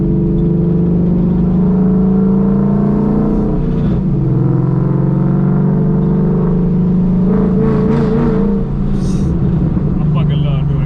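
Ford Mustang fitted with new headers and mid pipe rumbles loudly from inside the car as it accelerates and downshifts, engine tone rising and dropping, with people talking over it.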